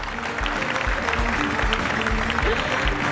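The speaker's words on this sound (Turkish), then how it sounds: "kamera önü ve arkasındaki Çukur ailesini alkışlamanızı rica ediyorum" Applause breaks out for the cast and crew of the Çukur series at its final gala, a moderate crowd clapping steadily throughout, somewhat distant and mixed with hall ambience.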